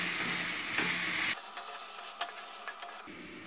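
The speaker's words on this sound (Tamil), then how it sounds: "மல்லித்தூள், மிளகாய்த்தூள் சேர்த்து நம்ம இந்த மசாலாவில் நல்லா ஃப்ரை பண்ணிக்கலாம்." Masala for mutton biryani fries with coriander and chilli powder, giving a steady close sizzle and hiss with scraping stirring strokes and a few light clinks of the spoon against the pan.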